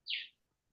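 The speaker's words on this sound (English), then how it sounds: "Now I can hear a bird chirping." A single short, high bird chirp rings out clearly against near silence during a quiet Dhamma talk held in an online meeting.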